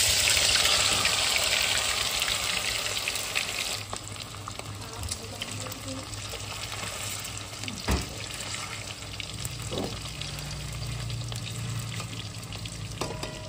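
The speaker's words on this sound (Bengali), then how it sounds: "বেশ খানিকটা তেল, যাতে আমরা এই মুইঠাগুলোকে ছাকা তেলে ভাজতে পারি।" Chital fish muitha dumplings deep-fry in oil with a loud, continuous sizzle, joined by occasional clinks and stirring clatter and a few louder bursts.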